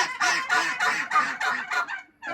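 A goose or duck honks about six times in a quick, steady rhythm, close and fairly loud, with no voices and a short pause at the end.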